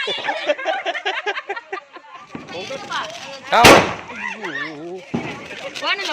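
A sharp firecracker bang bursts out once during Diwali celebrations, amid people talking and laughing nearby.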